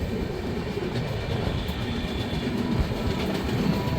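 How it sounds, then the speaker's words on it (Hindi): The Bhubaneswar Rajdhani Express crosses near Aligarh Junction, a dense continuous rumble of rolling carriages and wheels heard close up from a passing train, steady and loud throughout with no voices. "भुवनेश्वर राजधानी एक्सप्रेस सामने से शायद आ रही है"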